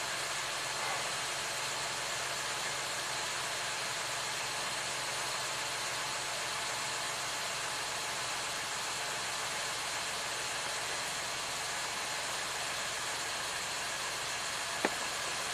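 A Honda Accord with VCM engine idles with a cylinder misfire on the rear bank, a steady mid-pitched hum that runs unbroken throughout with a slightly rough, shaky undertone and one brief click near the end.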